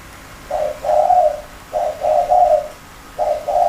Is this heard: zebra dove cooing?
yes